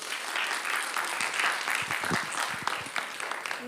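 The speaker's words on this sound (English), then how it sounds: "give a big applause to Joanna" Audience applause for a speaker at a Moldova Demo Day event, a soft, even wash of clapping heard from a distance, with a few sharper claps and faint voices near the end.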